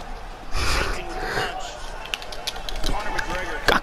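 A fighter in the EA Sports UFC 3 video game breathes heavily, with gasping, snorting breaths recurring through the clip amid game noise, while voices talk over it.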